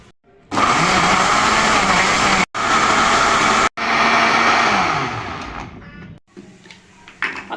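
A juicer machine grinding about four large tomatoes into paste in its jug, a loud steady whirring motor running in three close bursts with brief stops, then winding down to quiet clatter.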